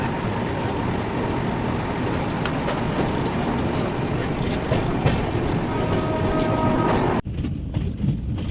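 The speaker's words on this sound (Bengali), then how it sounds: "বেলদাকে স্লিপ করে আমাদের দুরন্ত গতিতে ছুটে চলেছে সমুদ্র কন্যা" The Samudra Kanya Express, running at speed on the Digha to Puri line at night, gives a loud, steady rumble and roar from inside the moving train, with faint rattles and squeals throughout. The noise drops abruptly near the end. No one speaks.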